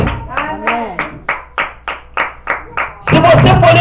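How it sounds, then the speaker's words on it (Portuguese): Close, crisp rhythmic clapping from a church congregation applauding Jesus Christ, about ten steady claps in a row before a loud swell of voices takes over. "Uma salva de palmas, Jesus Cristo."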